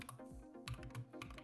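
Quick bursts of typing on a computer keyboard, close and quiet, with irregular clusters of key clicks and short pauses while an event name is entered.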